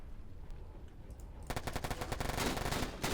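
Automatic machine gun fire from the online war game Warfare Online: a quiet ambient stretch, then dense, rapid bursts of shots that begin partway through and keep rattling loudly to the end, with no talking.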